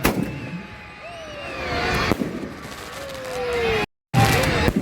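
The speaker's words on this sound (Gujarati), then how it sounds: "ખૂબ જ આતિશબાજી અત્યારે હાલ થઈ રહી છે" Fireworks crack and boom at a Dussehra Ravan Dahan festival in Bhavnagar, in a noisy outdoor crowd, with whistling rockets rising and a sharp bang, amid continuous rumbling and chatter.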